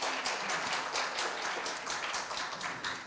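A small audience at a university campus startup demo day applauds a judge being introduced, with fairly quiet, steady clapping from a modest group of hands that continues throughout.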